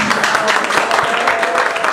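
Audience applause for a visiting musician at a live performance: continuous, fairly loud clapping with some crowd noise throughout, no clear talk over it.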